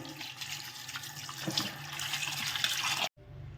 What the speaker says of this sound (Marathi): मटण आता आपण स्वच्छ धुवून घेऊ